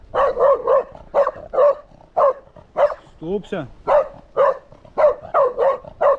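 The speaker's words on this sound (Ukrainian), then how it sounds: "Песик." A dog barks repeatedly in sharp, close, loud bursts during a short bike ride to a lake in Sokilnyky. The barks come in quick clusters across the whole stretch, and someone speaks briefly between them.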